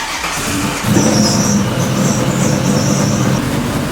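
A loud, steady engine rumble close by from a 600+ hp Foxbody Mustang V8 warming up, idling with a deep low drone and a slight rise in intensity partway through.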